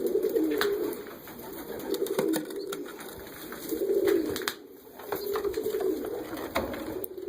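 Pigeons cooing near a nest, soft repeated coos in low rolling bursts, several calls in a row under steady background noise, with no talking.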